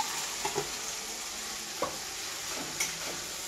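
Mutton fries with turmeric in a pan as a quiet, constant sizzle runs underneath, with a few distinct scrapes and taps from a spoon stirring the meat.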